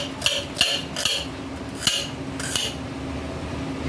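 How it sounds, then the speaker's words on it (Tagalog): A knife slices a vegetable directly on a small plate instead of a chopping board. A handful of sharp, close taps and clinks of the blade against the plate fall at uneven intervals. "hindi kasi ako gumagamit ng chopping board. Kaya sa plato ako na maliit na slice."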